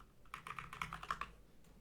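Quiet typing on a computer keyboard, a quick run of light key clicks that starts, patters steadily for about a second, then trails off to a few last taps.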